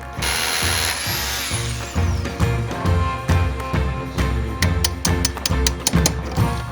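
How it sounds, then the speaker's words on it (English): A power drill bores a hole into a stone wall, its steady loud whine broken by regular rhythmic pulses of hammering as the bit bites into the stone. "Now we're going to drill a hole in the stone."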